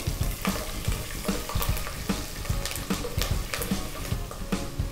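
Green chillies fry with cumin seeds in hot oil for jeera rice, a close, steady sizzle and crackle with stirring scrapes throughout.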